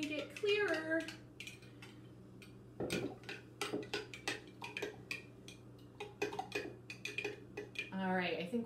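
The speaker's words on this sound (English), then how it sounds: "Stirring that for a little bit longer." A spoon stirs a solution in a glass for a candy hearts experiment, clinking sharply in a quick, uneven series of taps against the sides while a person talks intermittently.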